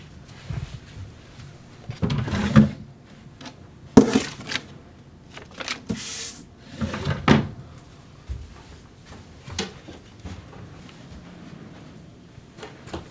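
A drawer is opened and rummaged through: scattered wooden knocks, clatters and rustling bursts come at uneven intervals over about thirteen seconds, close by in a quiet room.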